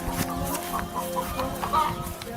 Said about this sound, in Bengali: মুরগি ডাকার শব্দ পাচ্ছেন